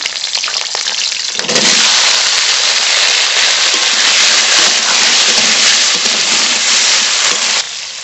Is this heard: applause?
no